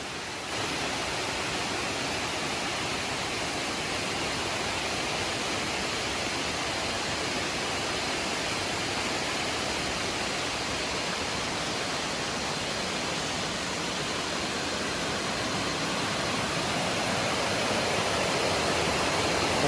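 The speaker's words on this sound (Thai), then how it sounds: "โห เป็นน้ำตกค่อนข้างใหญ่" A large jungle waterfall roars as a loud, dense, unbroken rush of falling water, steady and close throughout with no voices.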